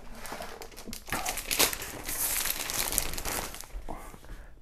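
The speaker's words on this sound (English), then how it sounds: "So this parchment paper is used to bake on." Parchment paper for baking sourdough bread is crinkled and handled close up, producing continuous crisp rustling and crackling for several seconds with no talking.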